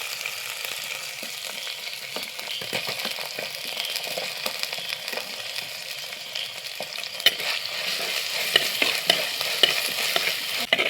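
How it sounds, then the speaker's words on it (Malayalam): Crushed ginger, garlic and shallots stir-fried in hot oil, a steady close sizzle with repeated scraping strokes of the spoon that grow a little louder toward the end. "ഇതിലേക്ക് ചതച്ച ഇഞ്ചിയും വെളുത്തുള്ളി, ചെറിയ ഉള്ളി കൊണ്ട് ഇട്ട് കൊടുക്കുക."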